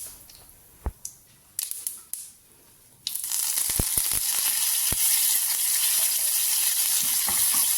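Mustard seeds and cumin seeds splutter in hot oil, a few sharp pops at first, then a loud, dense crackling sizzle that carries on steadily to the end.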